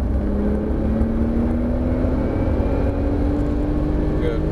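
A Porsche 997 Turbo S engine under light throttle on a racing track, a steady drone rising slowly in pitch as the car accelerates, loud and continuous from start to end.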